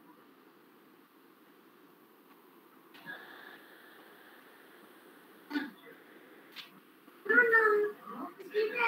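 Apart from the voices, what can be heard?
kitten meowing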